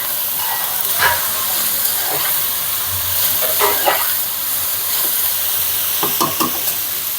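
Dal tipped into hot oil sizzles with a steady, dense hiss, broken by a few brighter crackling bursts as it is stirred close by.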